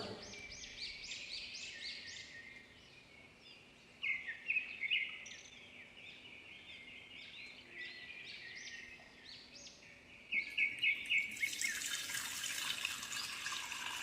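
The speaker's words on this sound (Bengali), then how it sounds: "এত জল তুমি কি করতে মেশাচ্ছ?" Water runs from a tap into a vessel as it is mixed into milk, a steady trickle that swells into a louder gushing stream, with birds chirping faintly in the background.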